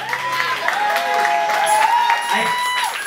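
Clapping and light cheering from the crowd at an acoustic live show, a crowd sound that continues under a voice speaking in the room.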